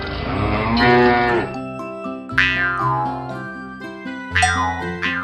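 A cow moos loudly nearby, one long low call followed by a series of shorter bellowing calls, with musical tones sounding alongside.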